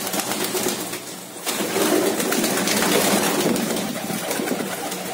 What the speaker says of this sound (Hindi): सब उड़ने वाले गिरे बाज कबूतर है सब भाई जी